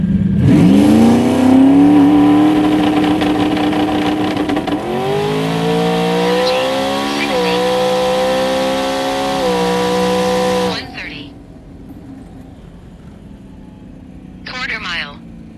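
A turbocharged LS-powered Camaro and a truck launch in a drag race, with a loud engine revving up through rising pitch and shifts for about ten seconds before cutting off abruptly, followed by faint distant noise.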